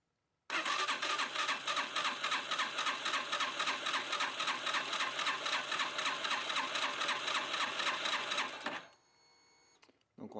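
A Yamaha YBR 125 motorcycle engine fitted with a 150 kit, being checked for compression, cranks on the starter in a fast, rhythmic, chattering churn for about eight seconds, close and loud, then stops abruptly.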